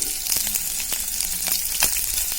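Onion, green chillies, ginger and dried red chillies sautéing in hot oil in a pan for a ladyfinger curd curry, a steady close sizzle with faint scraping stirs, no voices.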